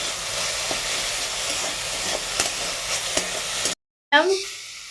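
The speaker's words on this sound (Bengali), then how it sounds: "ভালো করে নেড়ে ছেড়ে নিচ্ছি দেখুন" Moringa leaves sizzle steadily in a frying pan while a utensil scrapes and stirs through them with occasional clinks, followed by a brief cut and a short burst of voice near the end.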